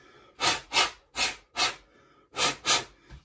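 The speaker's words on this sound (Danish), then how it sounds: "Lige puster på den en gang." Someone blows dust off an airbrushed fishing lure after sanding, making six short, close, breathy puffs in pairs, each a sharp burst of air with quiet gaps between.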